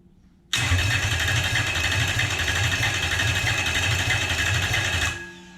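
A Toyota 1UZ V8 engine without VVT-i cranks and catches, then runs steadily with a rapid mechanical clatter for several seconds before cutting off.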